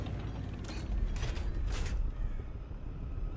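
A tank in the War Thunder video game rolls along with a low mechanical rumble and creaking track clatter, steady and moderately loud, with a few brighter grinding swells and no voices.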